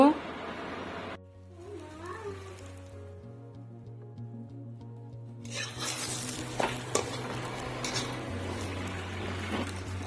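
Naan bread fries with a little oil in a pan, giving a steady soft sizzle with stirring and utensil scrapes, while music plays in the background.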